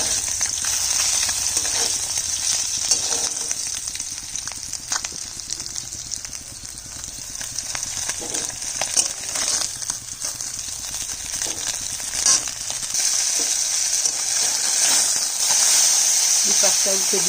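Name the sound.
frying puti fish in a pan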